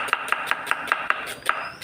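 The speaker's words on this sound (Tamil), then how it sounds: "ஒரு 1/2 கிலோ வெங்காயம் நல்லா பொடிசாக கட் பண்ணுவோம்." Half a kilo of onions is chopped finely with a knife on a board, about nine quick, evenly spaced sharp chops, close and clear with no talk.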